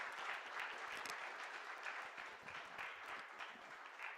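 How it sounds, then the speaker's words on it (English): Faint audience applause at a leadership summit, a continuous patter of many hands with a few sharper individual claps standing out. "I would request everyone to have a big applaud for them."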